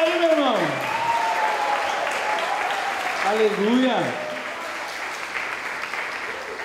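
A church congregation claps steadily throughout, a dense wash of applause filling the room while a voice shouts and calls out over it.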